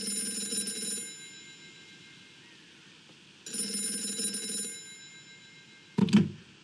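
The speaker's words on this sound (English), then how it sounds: "That phone is about to ring." An old-style telephone bell rings in the video game Gray Matter. Two separate bursts of ringing are separated by a quiet pause, followed by a short clunk as the handset is picked up.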